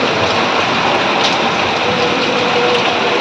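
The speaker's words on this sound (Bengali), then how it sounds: "তারপরে এসে দেখি ইতনা পরিমাণ বৃষ্টি হচ্ছে।" Heavy rain pours down outside in a dense, loud, unbroken roar that stays steady throughout, with no voices over it.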